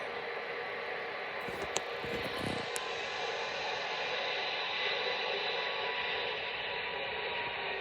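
An Emirates Boeing 777 takes off from Heathrow, giving a steady, fairly faint broadband jet roar that holds constant, with a few brief clicks early on.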